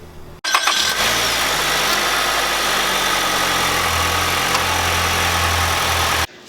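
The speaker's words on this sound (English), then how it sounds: "We'll start the engine and we'll check for leaks underneath the car" A 2020 Nissan Altima engine cranks and catches, then settles into a steady, loud idle that runs evenly for several seconds before cutting off abruptly.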